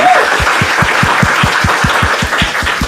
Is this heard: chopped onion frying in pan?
no